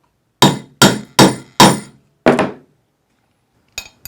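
A hammer strikes a snap setter to set a Segma snap socket: four sharp, ringing metallic blows in quick succession, a fifth after a short pause, then silence and two light taps at the end.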